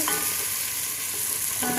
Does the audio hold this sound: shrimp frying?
yes